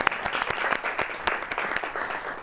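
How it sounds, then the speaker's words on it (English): Audience applause at a live talk show taping, a steady wash of clapping hands holding throughout with no speech over it. "We got to clap for that, right?"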